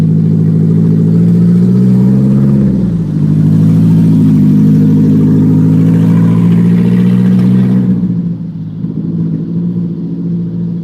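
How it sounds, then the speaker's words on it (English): A train locomotive's engine exhaust gives a loud, deep, steady rumble close by near a rail crossing, holding with slight shifts in pitch before easing off near the end. "Sorry for all that exhaust noise."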